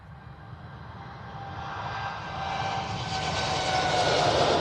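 An airliner on its takeoff roll at Manchester Airport: the jet roar swells steadily over a few seconds, growing louder and brighter as the engines spool up.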